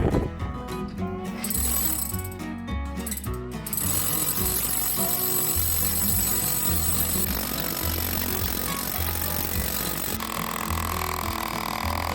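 A hammer drill rattles steadily and loudly, boring a 1 3/8-inch hole through 16 inches of concrete, a continuous pounding drone that holds for the whole stretch with slight shifts in pitch.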